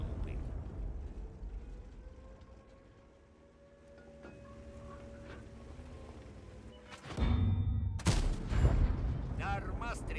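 Heavy tank cannon fire in World of Tanks: a low rumbling engine drone, then sharp loud blasts and crashes near the end.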